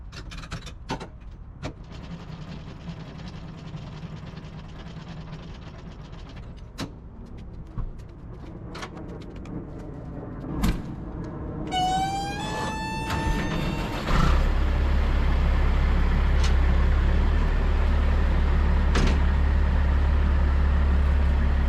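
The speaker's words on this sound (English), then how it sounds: "Let me get this trailer drop." A truck dropping off a trailer gives scattered clunks and knocks, then a sharp rising mechanical whine, followed by a loud steady low engine rumble that runs to the end.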